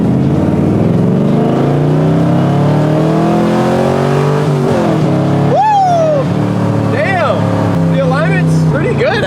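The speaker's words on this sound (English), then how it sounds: "I haven't actually floored this car." A 1975 Corvette with a 4-speed manual roars under full throttle, its engine note climbing steadily in pitch and then dropping at a gear change. Loud and close throughout, with a voice heard briefly over the engine.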